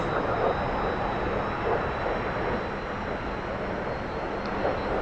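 Steady jet engine roar of a T-45 trainer aircraft under throttle in the DCS flight simulator, a constant broadband hum heard alone at moderate level.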